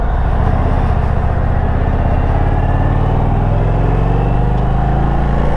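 2021 Indian Roadmaster motorcycle pulling away and riding, a loud, steady low engine rumble with dense mid-range drone throughout, close and continuous with no talk.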